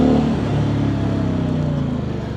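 A KOVE 625V Lancer motorcycle engine drones steadily while being ridden, a loud, close, continuous hum with a slight pulsing texture and no voices.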